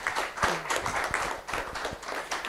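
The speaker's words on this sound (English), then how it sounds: "please give a huge round of applause for Team Bhilai." An audience at an executive talent competition grand final gives a brief round of applause, quiet and somewhat distant, with scattered claps rising and falling over a couple of seconds.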